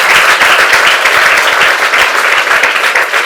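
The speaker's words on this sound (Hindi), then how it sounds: "पापा के लिए भी जोरदार तालियां और रुमित के लिए जोरदार तालियां।" A large audience gives loud, sustained applause with many distinct hand claps, strong and close throughout, with no talking.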